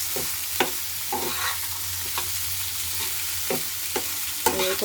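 Half-boiled papaya fries in a little ghee with a steady, moderate sizzle, broken by repeated spatula scrapes and taps against the pan as it is stirred, with no speech.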